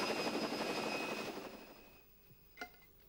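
A helicopter flies over a rhino reserve, its rotor chop and engine drone loud at first and then fading into the distance, with a brief sharp sound near the end.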